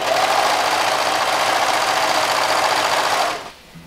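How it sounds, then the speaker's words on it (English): A serger stitches and trims a fabric seam with a steady, loud, fast whirring hum that runs continuously for about three seconds and then stops, leaving a short quiet tail. "So let's start serging."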